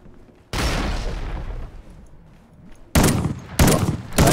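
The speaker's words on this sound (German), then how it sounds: "Kill mit der Shotgun." Shotgun blasts boom in Call of Duty Ghosts multiplayer: one heavy shot with a long decaying tail, then two sharp, close, loud shots in quick succession, without speech.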